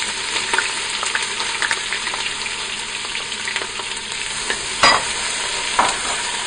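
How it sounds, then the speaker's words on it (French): Onions fry briskly in butter with cinnamon, almonds, bay leaf and cloves, making a loud, dense, steady sizzle close by, with occasional scraping stirs, and no speech. "On rajoute les oignons qu'on fait rissoler."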